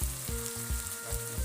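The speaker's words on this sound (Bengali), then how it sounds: "এবার কড়াইতে তেল দিয়ে পেঁয়াজ ভেজে নেব" Onions sizzle and fry in hot oil in a wok, a steady crackling hiss close up with low rhythmic stirring thumps, no talk.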